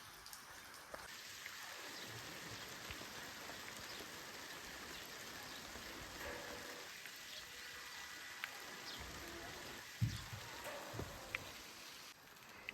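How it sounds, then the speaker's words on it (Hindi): Steady rain falls in a mountain setting while the sun is out, a dense, even patter of drops on surfaces continuing throughout with a few louder splashes, no voices. "अभी देखो धूप भी खिल रखी है, बारिश भी आ रही है"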